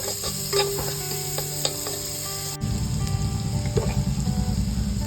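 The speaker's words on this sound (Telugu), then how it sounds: "ఆనియన్స్ వేసేసుకుందాం. ఆనియన్ కొంచెం ఫ్రై అయిన తర్వాత" Onions sizzle and fry in a pan while preparing mandi biryani rice, with steady loud sizzling, a few clinks, and a sudden burst of louder frying midway as more food hits the hot oil.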